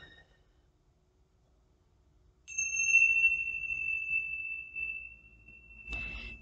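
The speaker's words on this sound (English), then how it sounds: "Let the sound of this bell resonate with you." A meditation bell is struck once in a quiet room and its clear, high tone rings on for several seconds before a soft rustle follows.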